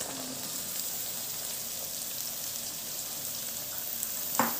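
Chopped shallots fry in a pan for a small prawn fry, giving a steady, even sizzle throughout. A brief clink of a utensil sounds near the end.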